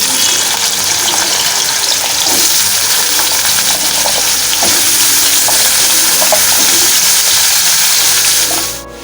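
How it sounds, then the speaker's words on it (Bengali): Potatoes fry in hot oil with a pinch of five-spice in a wok, a loud, constant close-up sizzle with occasional stirring scrapes that cuts off abruptly at the end. "আলুগুলোকে নেড়ে চেড়ে লাল লাল করে নিয়েছি।"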